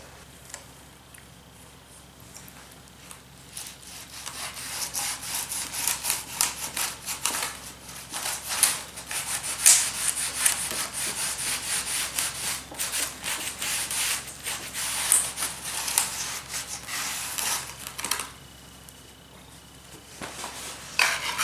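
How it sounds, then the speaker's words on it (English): A metal scraper dipped in diesel scrapes old fender flare residue off a vehicle body, a steady run of close, dry rasping strokes with brief pauses, loud and continuous with no talk. "I was just dipping my scraper into the diesel there, and it seemed to make everything move a little quicker."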